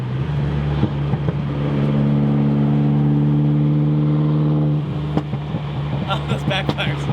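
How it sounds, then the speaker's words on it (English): A Mini car with a swapped motor idling and revving on the way to a Cars and Coffee event, a loud steady engine drone that drops off, followed by sharp pops and crackles of backfire near the end. "Oh, those backfires."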